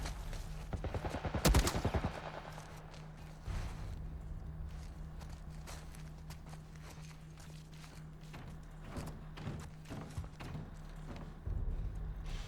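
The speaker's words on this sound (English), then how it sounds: "What are they shooting at us with? Some kind of military turret." Military turret gunfire in The Last of Us sounds as a sharp burst early on, followed by scattered fainter shots and impacts over a low steady hum.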